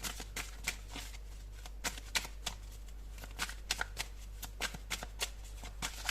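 Tarot cards are shuffled for a horoscope reading, making a steady run of crisp riffling flicks and taps, close and moderately quiet over a low constant hum, with no speech.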